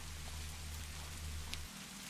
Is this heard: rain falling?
yes